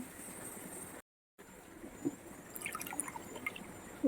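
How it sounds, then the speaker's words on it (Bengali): Water poured by the cupful onto rice for basanti pulao, a soft splashing and trickling that breaks off briefly, then resumes with light drips and pours. "এই কাপ মেপে আমি জল দিচ্ছি"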